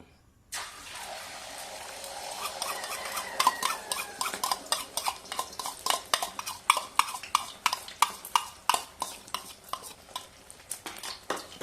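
Eggs whisked briskly in a bowl with a utensil, a steady run of sharp rhythmic clinks and scrapes against the bowl, close and fairly loud, growing more pronounced as it goes, with no talking.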